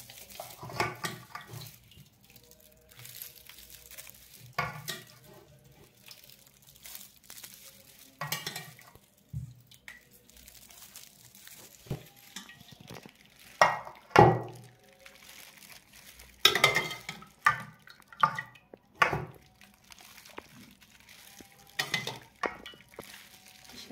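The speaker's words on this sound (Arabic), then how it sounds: "تقلبيها كده بالصلصة عشان تطلع حلوة" Potatoes being stirred with sauce in a pan, giving soft wet scraping and occasional clinks of a utensil against the pan in irregular bursts, fairly quiet and close.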